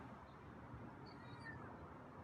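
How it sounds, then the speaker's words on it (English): A feral cat gives a faint, soft meow against a quiet background on a hot day. "It's kind of a soft meow"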